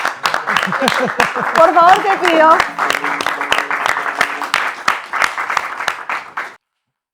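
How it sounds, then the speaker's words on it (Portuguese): An audience at a live music show claps in a series of sharp, close hand claps that keep going under steady talking and brief vocal sounds before ending abruptly. "Podemos aplaudir todos."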